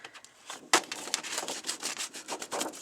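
Quick, rhythmic rubbing along the edges of a papercraft layout, a close, dry scratchy scuffing in short repeated strokes.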